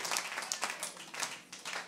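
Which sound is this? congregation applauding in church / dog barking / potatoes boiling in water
congregation applauding in church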